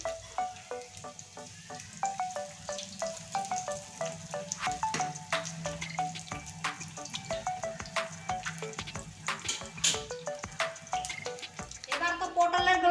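Pointed gourd (potol) pakoras sizzle steadily in hot oil while being turned one by one, with light clinks of the utensil against the pan and someone speaking over the frying.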